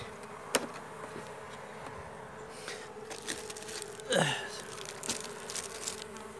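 Honey bees in a wintering ten-frame hive make a steady, low buzzing drone, broken by a few sharp clicks and soft knocks. No one speaks.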